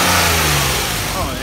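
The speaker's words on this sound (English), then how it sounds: "Oh yeah, nice snap throttle." An Infiniti I30 engine revs hard on a quick throttle snap, a loud, close mid-pitched roar that swells and eases back, with a voice speaking over it.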